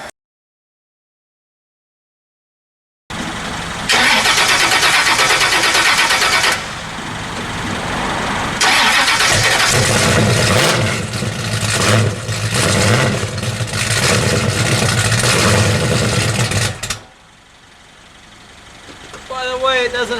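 A Pontiac car engine with no choke cranks and fires after a few seconds of silence, then idles and revs in loud surges at a Pontiac Nationals event at Summit Motorsports Park, before dropping away near the end.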